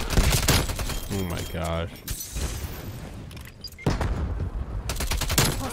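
Shotgun blasts ring out in Call of Duty Black Ops Cold War, a cluster of loud reports at the start and another burst near the end, mixed with game noise while a player exclaims.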